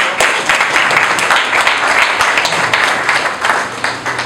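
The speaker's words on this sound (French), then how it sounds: "Beaucoup d'ovations" Steady, dense applause from an audience at a public ceremony presenting a local security plan in the Bumbu commune, loud and continuous throughout with no break.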